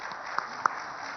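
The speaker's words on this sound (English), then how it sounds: "Let's give him a warm round of applause for this." A conference audience at the India Today Conclave in Mumbai applauds a speaker with steady, fairly faint clapping from a distance, a couple of sharper claps standing out.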